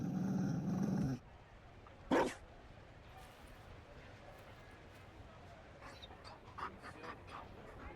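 Mabari war dog panting in the video game Dragon Age Inquisition, rhythmic breathy pants heard after a loud opening burst, with game dialogue around it.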